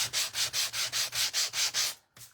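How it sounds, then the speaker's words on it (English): Rough-grit sandpaper sanding wood by hand, eight even back-and-forth strokes in a steady rhythm, close and clear with no talk, then a brief pause and a final stroke. "let's sand all of this and get rid of all of our dust"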